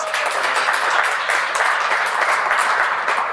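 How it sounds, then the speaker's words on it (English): Audience at the opening of a computing summit bursts into sustained applause, a dense, even roar of many hands clapping that holds throughout without anyone speaking over it. "Please give a big round of applause."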